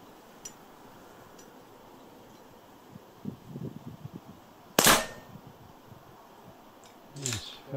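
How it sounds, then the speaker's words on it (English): A small, loud pistol fires indoors in a kitchen, giving one sharp crack with a ringing echo, followed later by a second short burst. Quieter clatter and low voices come before the shot. "Quite a noisy little pistol. Can most definitely do with a silencer."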